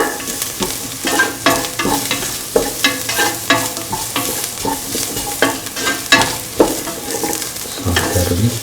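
A chickpea and rice mixture is sauteed in a pan, with a spoon scraping and stirring in a steady rhythm over a constant loud sizzle.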